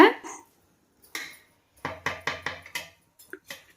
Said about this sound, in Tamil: இப்போ சிக்கனை சேர்த்துட்டு இந்த மசாலாவோட நல்லா கலந்து வர்ற மாதிரி மிக்ஸ் பண்ணி விட்டுக்கோங்க